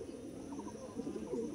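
A pigeon cooing softly in a rural village loft, a few low throaty burbling coos over steady background hum, close but faint.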